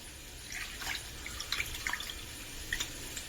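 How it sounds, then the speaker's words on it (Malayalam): Tamarind water is poured into a pan of chilli powder and salt for a fish curry, making a continuous liquid pour with small dripping splashes, close and moderately loud. "പുളിവെള്ളം ഒഴിക്കാം"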